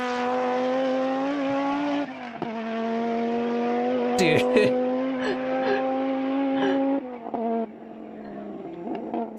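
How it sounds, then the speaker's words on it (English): Turbocharged race car engine in the Forza Motorsport racing game, a loud sustained harmonic engine note with quick turbo flutter bursts between gear changes, while a voice briefly speaks over it. "it's like the combination of the turbo flutter in between the already nutty"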